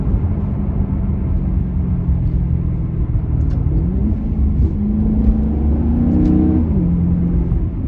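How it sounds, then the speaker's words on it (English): A 2010 Maserati GranTurismo 4.7 V8 S with automatic gearbox, rear-wheel drive, sends a loud, steady exhaust rumble that rises in revs and then drops off, close by and with no talk over it. "you even get a few burbles and pops upon, you know, sort of downshift and just sort of letting the RPMs like rise and then just sort of drop off"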